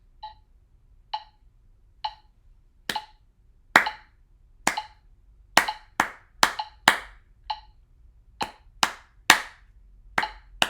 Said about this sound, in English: I'll switch on the metronome. Let's listen to 3 clicks.